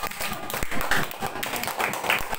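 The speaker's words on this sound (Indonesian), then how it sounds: "Tepuk tangan." Students in a classroom clap their hands together in a short, lively burst of uneven claps.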